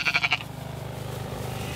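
A sheep on a farm lets out a short, quavering bleat close by, trailing off into steady low background rumble.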